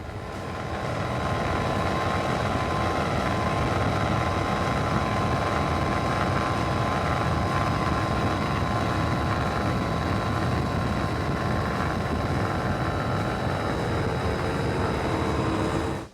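Deep, continuous roar of powerful Mercury Racing 600 powerboat engines running steadily, loud and close, with a droning hum that stays constant before cutting off at the end.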